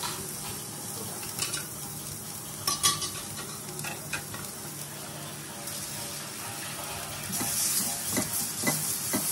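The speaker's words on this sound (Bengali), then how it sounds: "এর মধ্যে আবার দিয়ে দেবো এই যে গাছ থেকে তুলে এনেছিলাম কারি পাতা, এটা ফোড়নে দিয়ে দিলাম। এবার দিয়ে দেবো গ্রেটেড গাজর।" Curry leaves and grated carrot frying in oil, a continuous loud sizzle with stirring and scraping over it, rising to a stronger hiss near the end, no one speaking.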